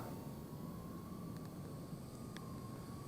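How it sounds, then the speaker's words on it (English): XBM 52W FPV nano drone lifting off and flying, a thin steady whine with a constant tone over a soft hiss, fairly faint, with a couple of brief clicks. "hitting takeoff, giving it a little more throttle to get it in the air, and bringing it over toward me"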